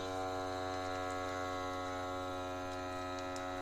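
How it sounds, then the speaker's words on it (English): A Nesco vacuum sealer pumps air out of a bag, giving a steady, even motor hum with a faint mechanical whir throughout, close and fairly quiet, with no talking. "So we're going to push that button, and as you can see, this is starting to seal in, starting to suck in."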